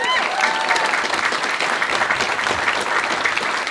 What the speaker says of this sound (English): So a wee round of applause for knockananna, please